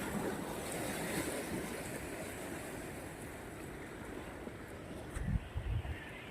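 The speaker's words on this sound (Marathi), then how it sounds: "कसा वाटतं हा समुद्र बघा." Sea waves wash steadily onto a beach under a hot sun, a continuous surf roar mixed with wind noise, with a few low thumps near the end.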